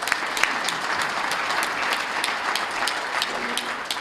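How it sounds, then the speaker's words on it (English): An audience at a chamber of commerce awards ceremony applauds the nominees with steady, even clapping that fills the room, moderately loud and without voices. "let's have a nice round of applause for all of our nominees"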